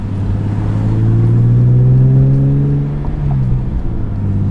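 A BMW E46 M3 with an SMG gearbox drives along, its engine droning steadily and rising in pitch before easing off around a gear change, heard loud from inside the car.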